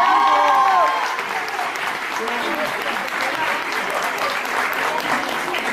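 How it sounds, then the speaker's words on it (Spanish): An audience at a gathering in Chile applauds Mr. Park and the embassy, a loud burst of clapping from a crowd that settles into steady applause, with a voice speaking over the start. "Un fuerte aplauso para el señor Park y la embajada."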